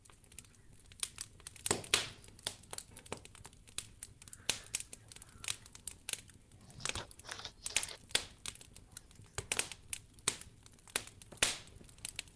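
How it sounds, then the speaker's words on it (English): Paper picture being crumpled up by hand, a long run of close, irregular crinkling and crackling bursts, some sharp and loud, with quiet gaps between handfuls. "Okay, go ahead and crumple it up."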